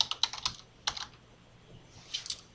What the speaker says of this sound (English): I can type in fermented